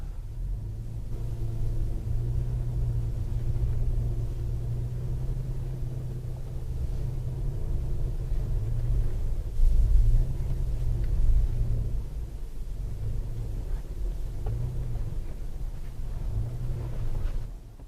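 A 2014 Toyota FJ Cruiser's engine rumbles low and steady from inside the cabin while climbing uphill, a deep continuous drone with slight pulsing changes in load and no talking.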